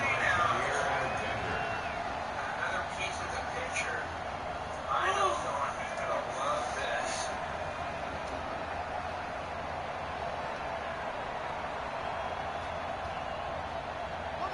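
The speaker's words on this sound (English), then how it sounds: "the crowd getting into it as we come up on a big 3rd down" A large football stadium crowd during a divisional-round playoff game keeps up a steady roar and hubbub ahead of a big third down, with scattered shouts rising over the murmur.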